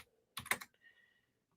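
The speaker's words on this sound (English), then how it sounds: "If you can see my typing" A short burst of rapid keystrokes on a computer keyboard, clattering for about a quarter second before a few softer, fainter key taps trail off; no talking.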